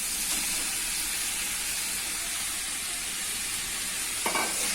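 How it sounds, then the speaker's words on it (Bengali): Banana flower and potato mixture being stirred in a frying pan, giving a continuous even sizzle with a soft scrape near the start and a sharper knock of the utensil near the end. "এবার আলুটা দিয়ে ভালো করে নাড়িয়ে আর কি চকাটা বানিয়ে নিতে হবে"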